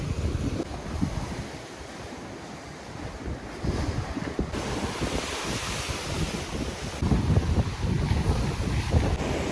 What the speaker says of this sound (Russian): Послушайте море.